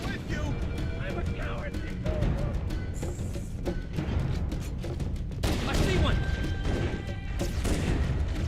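Gunfire from the video game Halo: Combat Evolved comes as rapid bursts of shots and crashing impacts layered over game sounds, with a person talking throughout.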